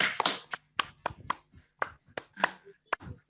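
A group practising a clapping exercise, with a run of separate sharp claps spaced unevenly, close by and fairly loud, each standing out against near silence.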